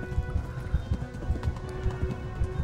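Horse hooves clip-clop in a steady running rhythm in a video game, close and fairly loud over a low rumbling background with no talk.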